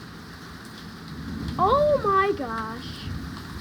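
Heavy rain pours steadily around a storm chaser car, a dense, continuous hiss throughout, while a voice exclaims partway through.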